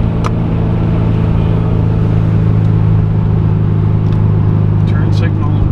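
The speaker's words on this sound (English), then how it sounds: "We're driving down the highway now." A 1974 Porsche 914 cruises down the highway, heard from inside as a loud, steady engine drone and road rumble throughout with no clear change in pace.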